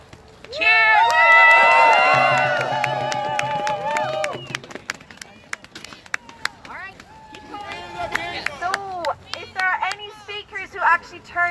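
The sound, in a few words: crowd cheering at Women's March rally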